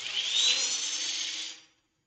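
A power drill spinning a piece of wood for sanding whirs at a steady high pitch for under two seconds, then winds down into silence.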